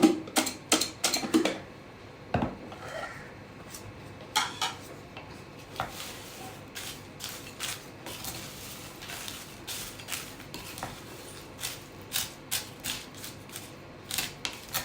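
Papad chaat being tossed together on a plate, giving a series of light clinks and scraping taps with crisp crunchy clatter, busiest at the start and then scattered through the rest, close up and with no talking.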